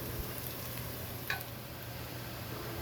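Potatoes and onions frying in a pan for an aloo gobi masala, a soft continuous sizzle with a faint clink or stir partway through, no voices.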